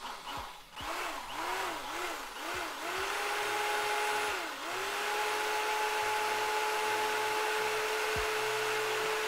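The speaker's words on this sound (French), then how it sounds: "Maintenant, j'allume la scie sauteuse." A jigsaw powered by an Anker SOLIX C1000 portable battery in a camper van: a motor revs up in several quick pulses, then settles into a steady, continuous whine for most of the clip.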